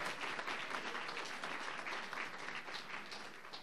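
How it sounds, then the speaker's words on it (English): An audience at a Teacher of the Year ceremony claps steadily and densely for several seconds, a sustained wash of applause that tapers slightly toward the end. "can we give him a round of applause for surviving?"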